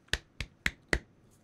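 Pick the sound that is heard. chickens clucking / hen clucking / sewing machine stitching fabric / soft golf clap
soft golf clap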